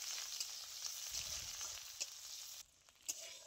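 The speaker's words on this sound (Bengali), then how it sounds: "পেঁয়াজটা খুব ভালো করে ভেজে নিয়েছি" Chopped onion frying in mustard oil in a kadai, a steady close sizzle with a few soft stirring knocks; the hiss briefly drops away near the end, then resumes.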